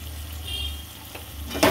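A spoonful of ghee hitting fried spice masala in a pan for a vegetarian cauliflower roast, giving a steady close sizzle with a sharper burst of crackle at the very end.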